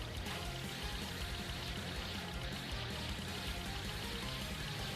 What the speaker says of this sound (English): I also really love the water effect here.